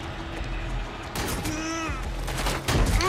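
Gunfire during a firefight in the video game Watch Dogs Legion, with rapid sharp bursts and mechanical clatter among scattered game effects, loud and close, and a voice talking partway through.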